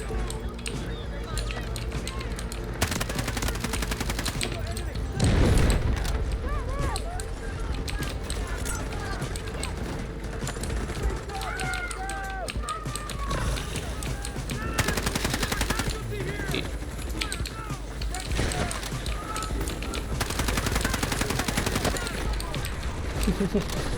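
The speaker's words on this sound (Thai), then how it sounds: "ปืนดีปืนดีแต่ว่าใครยิงวะเนี่ย" Rapid bursts of automatic gunfire from the CI-19 weapon in the Delta Force shooter game ring out loud and close, with repeated volleys and brief pauses, while someone talks over them.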